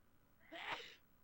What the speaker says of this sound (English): Oh my god, another sneeze.